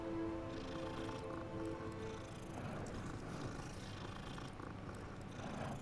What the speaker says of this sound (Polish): Możemy głaskać kotki.